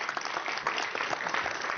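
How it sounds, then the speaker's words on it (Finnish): Audience applause at a Finnish children's science theatre show at Aalto University, steady clapping from a small crowd sustained throughout, no voices on top. "Annetaan aplodit."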